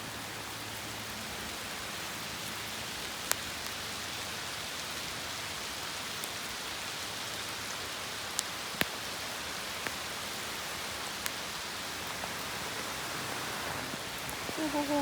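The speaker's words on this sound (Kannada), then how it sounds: "ಮಳೆ ಬಂದೇ ಬಿಟ್ಟು." Steady rain falling at a waterfall spot, a constant broadband hiss with a few sharp drop ticks, continuous and fairly close throughout with no talking.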